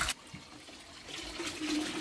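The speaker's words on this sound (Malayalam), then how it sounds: "ഇനി നമ്മൾ ഇതിനകത്ത് വെള്ളം നിറച്ച് കൊടുക്കുകയാണ്" Water running into a fish tank during a tank reset, a faint steady splash and rush that grows slightly louder, with a brief knock at the start and no talk.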